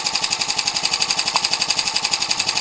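A Ryobi 29cc four-cycle R/C aircraft engine with a cut-down flywheel runs steadily nearby. Its fast, even pulsing buzz is loud and constant, with no voices.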